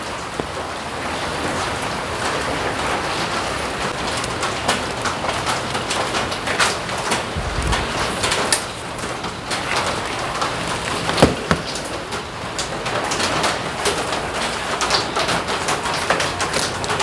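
Heavy typhoon rain in Taiwan pours steadily onto surfaces outdoors, a dense, continuous patter with occasional louder drips and a faint bird call.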